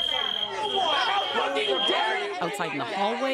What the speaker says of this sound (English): Someone pulled the fire alarm.